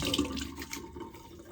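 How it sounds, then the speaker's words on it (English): Water splashes briefly and softly as a face is rinsed with a handful of water during a nighttime skincare routine, a short, close wet swish that fades quickly. "put a little water on"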